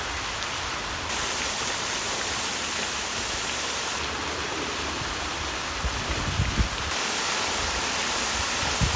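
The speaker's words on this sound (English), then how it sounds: "These are the Roman fountains." Roman fountains at Peterhof park in Russia splash in a continuous, even wash of falling water, steady and fairly loud throughout with no voices.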